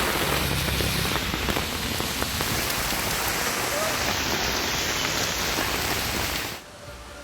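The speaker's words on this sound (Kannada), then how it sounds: "ಎರ್ರಾಬಿರ್ರಿ ಅಂತ ಸುರಿದ ಮಳೆ ರಸ್ತೆಗಳನ್ನೇ ಮುಳುಗಿಸಿತು" Heavy rain pours down in Bengaluru in a dense, steady hiss of drops hammering the surfaces close by, cutting away abruptly just before the end.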